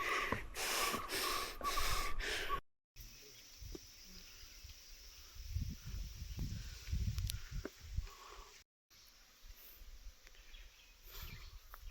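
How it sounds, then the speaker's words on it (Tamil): Heavy, labored breathing of a trekker climbing stone stairs on a trail near Kodaikanal, repeated strong close gasps at first, then softer panting and rustling outdoors without speech. "எனக்கு இந்த படிக்கட்டு ஏறும்போது தாங்க மூச்சு வாங்குது."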